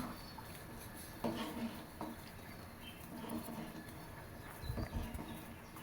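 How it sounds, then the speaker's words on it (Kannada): Semolina (rava) is stirred into boiling water in a pot, making soft, faint scraping and a few light clinks of a spoon against the metal at an uneven, unhurried pace. "ಸ್ವಲ್ಪ ಸ್ವಲ್ಪನೇ ರವೆ ಹಾಕ್ಕೊಂಡು ಚೆನ್ನಾಗಿ ಮಿಕ್ಸ್ ಮಾಡ್ಕೊಬೇಕು ಗಂಟಿಲ್ದಂಗೆ"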